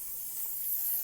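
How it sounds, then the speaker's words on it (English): Cooking oil pan spray misted onto chicken before it goes into an air fryer, a close, steady high-pitched hiss lasting about a second. "And then I'm going to take the pan spray and just kind of give it a nice little,"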